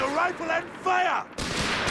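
Infantry gunfire from MP40 submachine guns in Company of Heroes 3, a crackling burst of shots breaking in over a voice talking, loud and fairly close.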